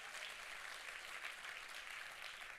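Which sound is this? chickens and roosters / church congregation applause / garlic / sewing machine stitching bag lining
church congregation applause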